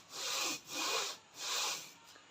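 Cylinder head rubbed back and forth on sandpaper laid on a flat surface: three smooth, loud abrasive strokes in a steady rhythm, close and alone.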